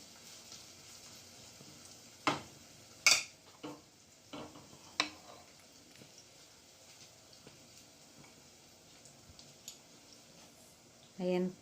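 Coconut crumb frying in a pan, a quiet faint sizzle broken by several sharp spatula clicks and taps early on, then a louder burst near the end.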